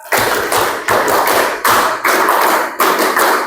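Rhythmic hand clapping in a classroom clapping game at an agricultural vocational school, sharp bursts of claps repeating in a steady pattern, loud and close with several hands together.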